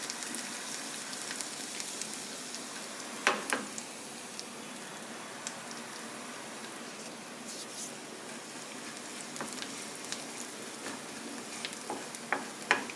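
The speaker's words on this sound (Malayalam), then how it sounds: "ഈ ജീരകം ഒന്ന് പൊട്ടണം." Cumin seeds crackling in hot oil with onion for North Indian red lentil dal tadka, a steady soft sizzle with scattered sharp pops and a few louder crackles, close and alone.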